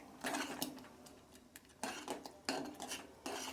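Sweet pongal with ghee, cashews, raisins, cardamom powder and coconut being mixed in a pot, a spoon scraping and clinking in repeated close strokes with short pauses between, fairly quiet, no voices.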